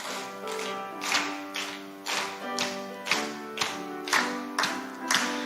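A church congregation claps in steady unison along to hymn 502 at a morning worship service, crisp regular beats roughly every half second with the hymn's sustained sung tones underneath.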